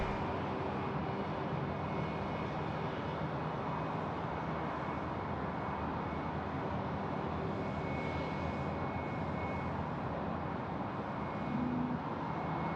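A Hawker 800XP business jet arriving at Sydney Airport, its engines giving a steady, moderately distant roar that holds evenly throughout with no voices.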